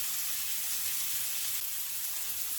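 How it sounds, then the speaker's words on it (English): Pork chops searing in a pan on their second side, giving a steady, even sizzle of hot fat that holds at a constant low level throughout with no voices over it. "So these are getting a beautiful sear on the second side as well."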